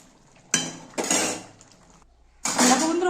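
A spoon scrapes and clinks against a cooking pot while Bengali-style potol, potato and fish roe curry is stirred, in a few separate close bursts with short pauses.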